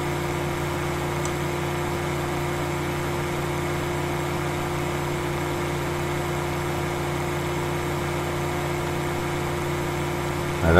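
A tractor engine idling in the Farming Simulator 15 video game, a steady, even drone with a constant low hum and layered mid tones, loud and unchanging for the whole stretch.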